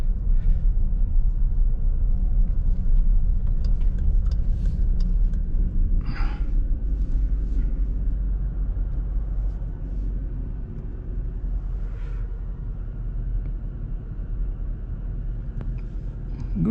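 A road vehicle passes on an off-road trail on public land in Alberta, a heavy low rumble that is loud at first and fades gradually as it moves away, heard from inside an idling vehicle.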